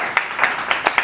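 A few hands clap sparsely at an energy panel discussion, about five distinct, evenly spaced claps standing out over a quiet room.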